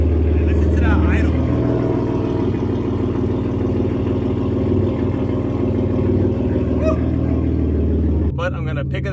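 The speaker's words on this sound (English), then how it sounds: "Listen to that idle." A tuned car with a stage 2 tune and burble map idles close by, a steady loud low rumble that holds throughout, ending with a brief sharper burst.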